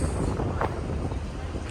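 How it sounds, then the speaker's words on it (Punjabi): Strong wind buffets the microphone on the open deck of a BC Ferries ship sailing to Victoria, a steady roaring rush with a brief louder gust, close and continuous. "ਹਵਾ ਚੱਲਣ ਲੱਗ ਗਈ ਪੂਰੀ।"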